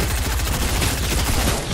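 Rapid automatic gunfire from a weapon in the Fortnite video game, a dense, loud burst of shots that runs through the whole moment with no pause.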